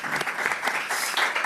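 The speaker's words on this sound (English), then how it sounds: "give Eric a big round of applause" An audience claps after a talk, a dense, close burst of applause that holds steady for a moment.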